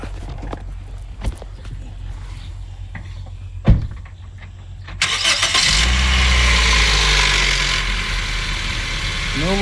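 Heard from underneath a 2015 Honda Civic during an oil change, a few knocks and a thump give way to the engine cranking and catching, then a steady, fairly loud idle running close by.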